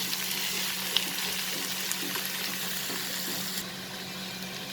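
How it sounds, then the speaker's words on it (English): Onion sautéing with bitter gourd and potato in a pan over medium flame, a steady soft sizzle and crackle with faint occasional stirring clicks, no voices. "And now saute this for a minute"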